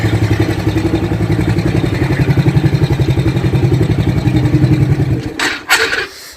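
A motorcycle engine idles close and loud with a steady, throbbing chug for about five seconds, then cuts out abruptly, leaving a few brief clicks and rustles.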